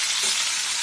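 Fish eggs dropped into hot oil in a kadai sizzle in a steady, close crackling hiss that fills the short moment without any voices.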